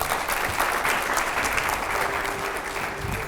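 A studio audience at a televised discussion gives steady, enthusiastic applause that holds at an even level from start to finish, dense and moderately loud.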